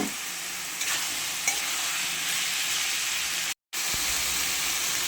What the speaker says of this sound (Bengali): এবার ভালো করে কষিয়ে নেব। দিয়ে দিচ্ছি টমেটো।